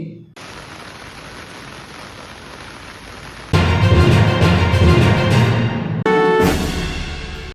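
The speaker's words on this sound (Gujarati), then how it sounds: "દમણમાં લાંબા વિરામ બાદ ધોધમાર વરસાદથી નીચાણવાળા વિસ્તારોમાં જળબંબાકાર." Heavy rain falls in Daman, a dense, loud, steady hiss of downpour across several abrupt cuts between scenes.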